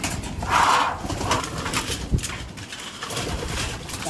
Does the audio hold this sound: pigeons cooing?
yes